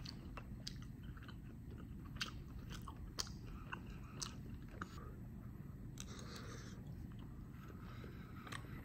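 Tteokbokki being chewed and bitten close up, soft repeated crunchy chomps and mouth sounds at a faint level over low background rumble, with no speech.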